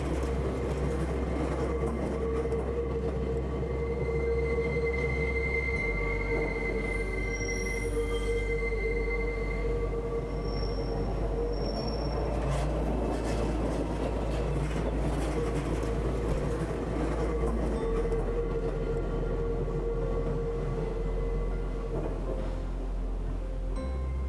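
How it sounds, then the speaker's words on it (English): A train arriving in Zermatt in the Alps rolls along with a continuous low rumble and metallic wheel squeals rising and fading, steady and fairly close throughout. "With no cars allowed in Zermatt, visitors arrive by train"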